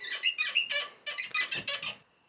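A Honda Fit clutch pedal squeaks loudly while the clutch is being bled, a run of about ten rapid rhythmic squeals in two bursts, up close and alone.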